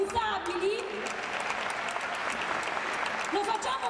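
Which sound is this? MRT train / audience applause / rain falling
audience applause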